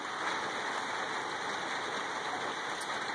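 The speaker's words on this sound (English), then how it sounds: "The rain." Steady rain falls outdoors as a continuous, even hiss of drops pattering on surfaces, with no pauses or voices over it.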